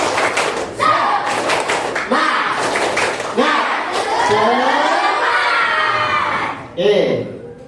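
A class group repeats the tepuk semangat clapping chant, sharp clustered claps and thumps punctuating loud children's chanting, close by, ending in a final burst of claps.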